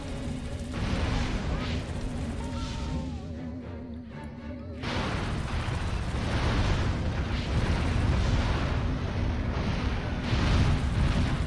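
Loud, sustained explosions and crashing debris from destroying things in the Destroy All Humans video game, a continuous dense roar with a brief lull near the middle before the blasts surge again.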